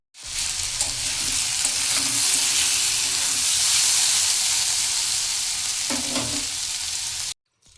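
Potatoes seasoned with salt and turmeric fry in a pan with a steady, loud sizzle, broken by a few stirring scrapes near the end before it cuts off.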